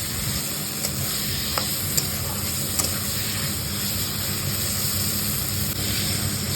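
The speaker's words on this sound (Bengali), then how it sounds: "কাঁচা তেল দিয়ে আবার একটু কষাতে দেবেন" Whole cumin, ground pepper and masala fry in raw mustard oil in a pan, a loud steady hiss with faint occasional stirring taps, nearby and without speech.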